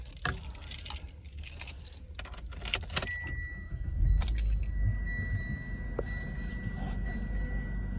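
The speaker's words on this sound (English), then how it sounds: "We do have 2 remote keys with the vehicle." Two genuine remote car keys for a Mitsubishi Outlander jangle close up in bright metallic rattling bursts, followed by quieter handling noise and a faint steady electronic tone inside the vehicle.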